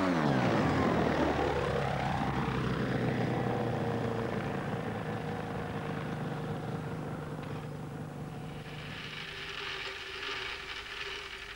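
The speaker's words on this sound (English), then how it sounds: "those early flying machines looked a bit like these modern microcraft." A modern microlight aircraft flies past with a steady propeller-engine drone that sweeps in pitch as it passes and then fades slowly into the distance, loud at first and alone without voices.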